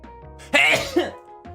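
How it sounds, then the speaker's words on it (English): One sharp, loud sneeze bursts out close to the microphone, with a short breathy catch and a small exhale trailing after it. "I gotta get into the habit of muting my microphone when I sneeze"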